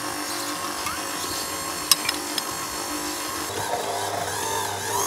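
A stand mixer's dough hook kneads pizza dough, giving a steady, fairly loud motor whir and churning that runs throughout with a few brief knocks.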